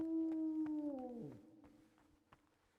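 A dog whines and howls in the video game Kingdom Come: Deliverance, a single long, wavering cry that slides downward and fades, with soft clicks behind it.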